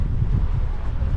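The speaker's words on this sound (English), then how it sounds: "it's so windy" Strong wind buffets the microphone outdoors near Bamburgh, a loud, constant low roar with no talking.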